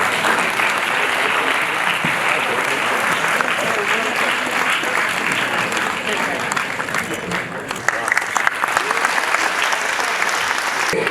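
Loud, steady applause from an audience at a police-backed anti-drug awareness event, sustained clapping filling the whole stretch with a brief dip near the end.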